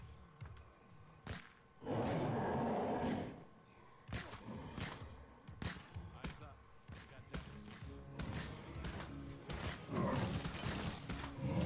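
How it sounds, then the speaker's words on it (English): Gunfire aimed at a Juggernaut zombie in State of Decay 2: repeated sharp shots spaced irregularly through the fight, with a loud sustained burst early on, a voice talking over it and game sounds in between. "Okay, now everybody's shooting the Juggernaut."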